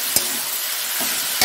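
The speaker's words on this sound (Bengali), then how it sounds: "এটা একটু ঢেকে ঢেকে ভাজা করবো" Cauliflower and potato fry in a covered pan after onions, giving a steady close sizzle with faint stirring clicks near the start and end.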